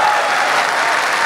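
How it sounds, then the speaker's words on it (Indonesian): A TV comedy show audience claps steadily and densely for a moment, a full burst of applause with no voices on top. "tepuk tangan buat Nuri"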